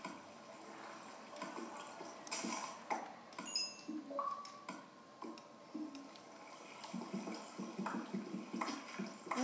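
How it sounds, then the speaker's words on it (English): Water streams in a Minecraft cave world, a continuous rushing flow with scattered clicks and game pings over it, moderately close and steady throughout, with no voice. "Oh man, this water stream goes down far."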